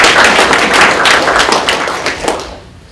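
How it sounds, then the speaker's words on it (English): Lecture audience applauding a speaker with a dense, fairly close patter of clapping hands that fades toward the end. "Let's give her a round of applause."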